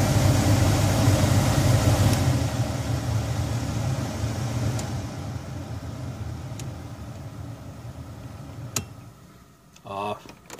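Heater blower fan in a Geo Tracker running on its high setting, a steady broadband whoosh with engine hum underneath, loud and continuous before a click and a brief rattle near the end.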